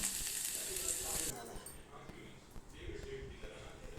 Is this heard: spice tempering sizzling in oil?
yes